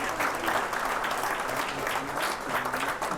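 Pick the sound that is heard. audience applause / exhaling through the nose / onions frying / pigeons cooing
audience applause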